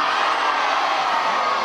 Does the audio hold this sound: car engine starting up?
no